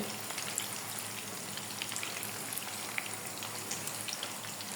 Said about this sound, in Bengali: আলুটা ভাজতে একটু সময় লাগবে, আলুটা একটু গোটা গোটাই দিয়েছি